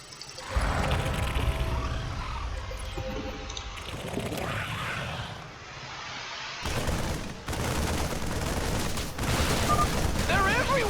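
Units in StarCraft II fire nonstop during a base battle, a dense, loud wash of gunfire and explosions that eases briefly in the middle and then returns, with game voice lines over it.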